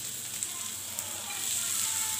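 Okra sautéing in a hot pan with green chillies for a vegetarian thali, giving a soft, steady sizzle and crackle that swells slightly toward the end, with no talking.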